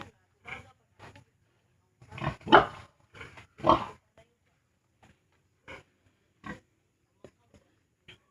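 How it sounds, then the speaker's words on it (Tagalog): A pig grunts in scattered bursts, a few louder deep grunts clustered early, then sparse softer snorts with quiet pauses between. "Update sa ating inahing baboy mga bossing."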